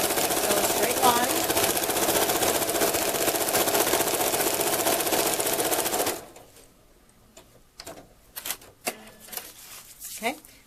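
Sewing machine running a straight seam in quilting fabric, a loud steady whirring drone for about six seconds before stopping, followed by a few scattered clicks and soft handling sounds.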